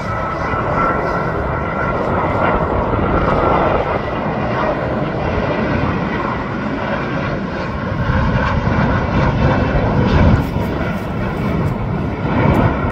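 A large airliner landing at Brasília airport after a flight from Portugal, a steady loud engine roar heard from close by the runway, sustained throughout with no talking.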